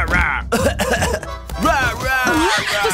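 A short throat-clearing cough rises out of animated, overlapping chatter, with voices continuing around it.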